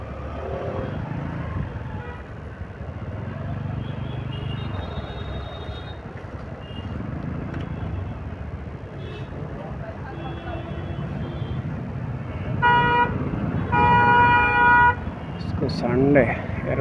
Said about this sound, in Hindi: ट्रैफिक लग रहा है